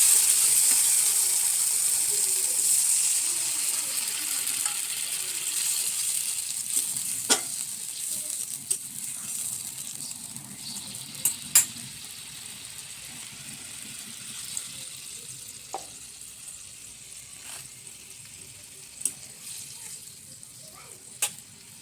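Water poured onto fried masala for a kofta curry sets off a loud, hissing sizzle that slowly fades, with occasional sharp clicks from a stirring utensil against the pan.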